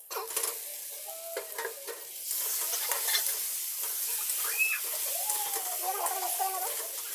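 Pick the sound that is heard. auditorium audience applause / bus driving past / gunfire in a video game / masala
masala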